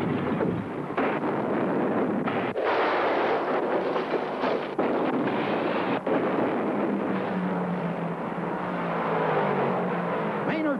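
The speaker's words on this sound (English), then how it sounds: "Troyer's Ford number 60 flips an incredible number of times" A Ford race car crashes and flips repeatedly at the 1971 Daytona 500, a loud sustained roar of engines and crowd with grinding, crunching bursts of impact, no voices heard.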